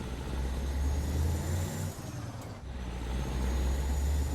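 A truck engine in a trucking simulation game runs steadily and loudly throughout, a constant low rumble with a brief dip in the middle before it picks back up.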